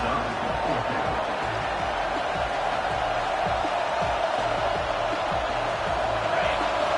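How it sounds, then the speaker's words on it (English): A steady, dense roar from a college football crowd at Saban Field, home of the Crimson Tide, rolls on without a break through a third-down play. "The Tide crowd rolling noise down onto Saban Field on third down."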